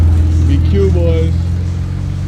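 A car with a Nissan VQ engine pulls up at a car meet, its loud, steady low engine rumble close by and dominant, with people talking over it.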